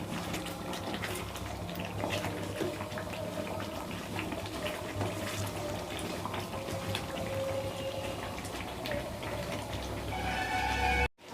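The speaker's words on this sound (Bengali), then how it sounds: "তারপর এর মধ্যে আমি গরম জল এড করব।" Hot water pours steadily into simmering chicken gravy in a kitchen pot for Moghlai chicken, a continuous low watery rush that ends with a clunk.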